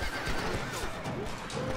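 A horse whinnies loudly in the video game Red Dead Redemption, over a dense, noisy background with faint hoof clatter, the neigh rising and wavering briefly.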